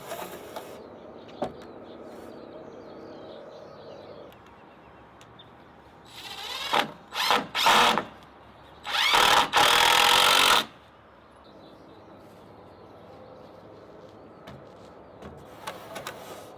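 Power drill driving screws into 2x6 shed rafters, twelve feet long, during a shed extension: a few loud bursts of motor whine in the middle, one short pair then a longer run, with quiet surroundings before and after.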